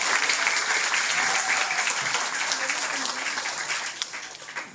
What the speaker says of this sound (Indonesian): Tepuk tangan buat guru juga.